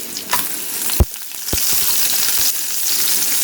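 Ginger, onion and garlic sauté in hot oil with a loud, continuous sizzle, broken by a few sharp clicks and scrapes as the pan is stirred.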